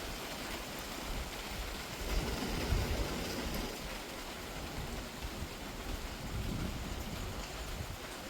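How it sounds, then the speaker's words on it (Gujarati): Sudden heavy rain pouring down outside a house, a dense even hiss with faint wind, steady and fairly distant throughout. "તો વરસાદ ચાલુ થઈ ગયો."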